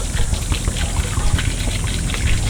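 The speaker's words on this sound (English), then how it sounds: "We're going to dump out some of the water so that we're not putting water in the trash." Water pours out of a No Spots Pro deionizing resin tank, a continuous loud splashing gush with a rough, bubbly texture that runs steadily from start to finish, close by and without talk.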